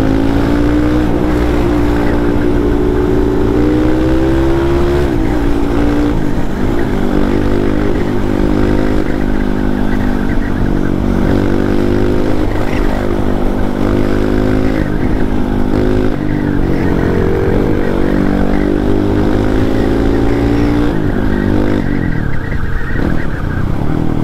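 Motorcycles race on a supermoto track, among them a Honda CRF and locally made supermoto bikes. Loud, close engine howls climb and fall through repeated revving and gear changes, steady and without pause for the whole stretch.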